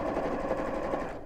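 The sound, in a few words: sewing machine stitching a bowling bag seam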